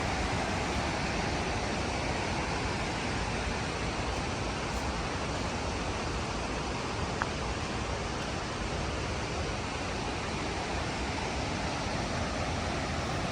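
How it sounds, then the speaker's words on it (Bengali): Waterfall at Parc des Chutes de Sainte-Ursule, a steady, dense roar of falling water that fills the whole stretch evenly and loudly, with no voices. "ঝর্ণাটা নেমে গিয়েছে"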